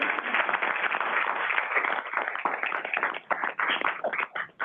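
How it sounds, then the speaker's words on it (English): Members at a regional council board of directors meeting give a round of applause. Dense, continuous clapping fills the room at an even level and thins out slightly near the end, with no voices heard. "I am actually going to ask for a round of applause for Melinda, first of all."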